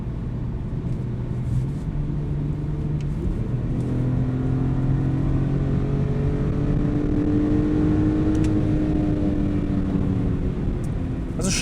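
A supercharged BMW E46 330Ci with an SMG gearbox accelerates in a steady loud drone, engine pitch rising and then stepping down at quick gear changes, no talking.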